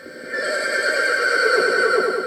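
A horse neighs loudly and close, a long, wavering whinny that rises and trembles for about two seconds, part of a unicorn costume scene in a Peppa Pig Halloween cartoon.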